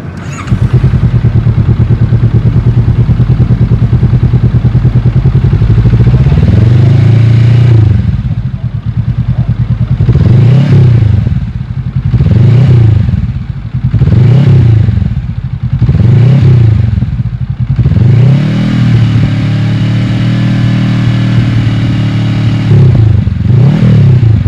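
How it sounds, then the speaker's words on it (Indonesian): A Honda CB500X with its dB killer removed idles loudly close to the exhaust outlet, then revs in about seven sharp, evenly spaced bursts before settling back into a steady rumble. No voices are heard. "ada rekam suara tanpa DB Killer dan kita juga uji dengan decibel meter, jarak 1 meter daripada mulut exhaust dengan sudut 45 derajat"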